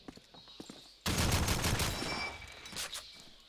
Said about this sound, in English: Toxic just firing a couple of shots in there